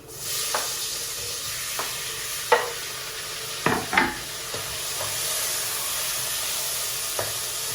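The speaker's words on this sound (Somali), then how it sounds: "hadda waxaan ku shubi doonaa insha Allah yaayadii" Tomatoes added to onions frying in a pan for a Somali sauce, a steady sizzle and hiss with a few sharp spoon clatters and a burst of louder crackle near the middle.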